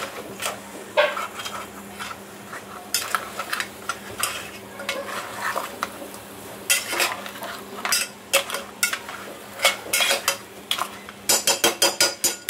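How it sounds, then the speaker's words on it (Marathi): Crab pieces being stirred into masala in a pan, with repeated scraping and clinking of a spoon against metal in irregular bursts over a low sizzle, close up. "छान असे आपल्याला मिक्स करून घ्यायचे मस्त मसाल्यामध्ये"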